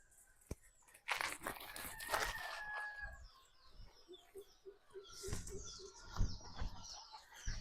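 On a village farm, chickens cluck and a rooster crows over a rustling, crunching background. The bird calls come close and repeated, mixed with occasional thumps and scraping.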